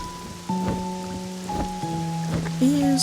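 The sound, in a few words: rain in the video game Pokopia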